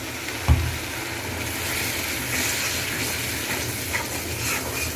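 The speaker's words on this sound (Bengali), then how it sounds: "এখন সামান্য একটু পানি দিই।" Water poured into a pan of frying onion, ginger and garlic for a beef dish raises a steady, close sizzle with a brief thump near the start. No one speaks.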